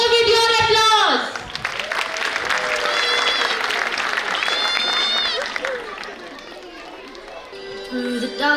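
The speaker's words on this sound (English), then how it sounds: "Audience, let the hall echo with your applause." Applause from an audience fills a hall at a children's annual function after brief music, steady clapping under scattered voices before fading and music returning.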